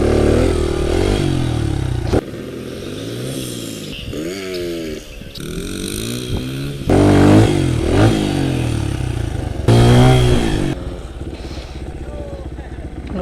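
A motorcycle revving hard during wheelie practice: repeated throttle bursts climb and drop in pitch, loud and close, with a rider's voice and wind noise mixed in.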